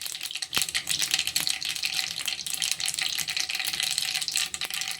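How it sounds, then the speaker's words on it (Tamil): Mustard seeds and urad dal splutter in hot oil in a pan for a prawn curry, a dense crackle of small sharp pops and a few louder snaps, with no one speaking. "கடுகு வந்து நல்லா வெடிக்கணும்."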